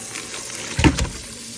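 Tap water runs briefly over food being rinsed in a home kitchen, a short soft gush rising and fading within about a second against a quiet background.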